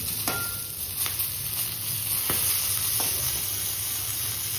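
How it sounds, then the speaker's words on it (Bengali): Eggplant slices frying in a pan on a gas stove, a steady soft sizzle with a few light taps of a spatula, close and continuous. "এখন বেগুন ভাজাটা হচ্ছে, প্রায় হয়ে এসছে"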